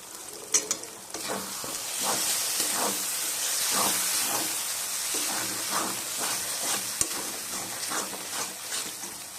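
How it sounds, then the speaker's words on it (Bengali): Spice paste with chilli powder and grinding water sautés in a pan, a continuous sizzling hiss broken by repeated scraping stirs at an irregular rhythm, close and fairly loud with no talking. "মশলা বেটে নেওয়ার জলটা দিয়ে আমি একটু কষিয়ে নেব।"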